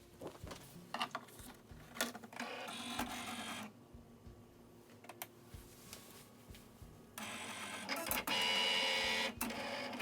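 A vinyl cutter slices heat transfer vinyl for a T-shirt, giving bursts of busy mechanical whirring and clicking carriage movement, with a quieter pause midway and louder, steadier running near the end.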